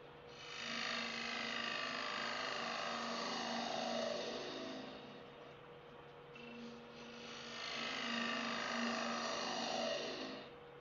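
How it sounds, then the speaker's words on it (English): Bowl gouge cutting into spinning wood on a lathe while hollowing the middle of a dog burial urn, a sustained loud scraping whir with a steady hum, easing briefly midway before resuming strongly, with no talking. "So we're going to just open up this middle with a bowl gouge first."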